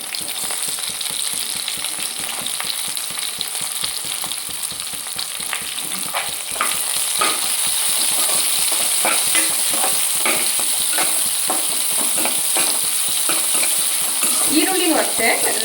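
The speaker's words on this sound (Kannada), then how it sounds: "ಎರಡು ಈರುಳ್ಳಿ ತೊಗೊಂಡಿದ್ದೆ ಈರುಳ್ಳಿನೂ ಹಾಕೋಣ ನೋಡಿ" Two medium onions added to hot oil and stir-fried for a chapati dish: a constant loud sizzle that grows stronger partway through, with steady scraping and stirring close by.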